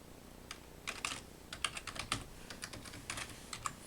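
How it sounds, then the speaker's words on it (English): Typing on a computer keyboard while entering a binomial formula at a command line, bursts of quick close keystrokes with brief pauses, fairly quiet and with no voices. "see if I can manage to type that in"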